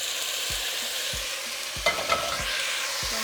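Ground beef goes back into fideo noodles frying in a pan for sopita de fideo, a soft continuous sizzle with several spoon scrapes spaced through it.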